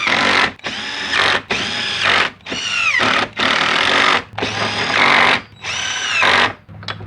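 Screws being driven back in with a power drill, six or seven loud whirring bursts separated by brief pauses, close and alone.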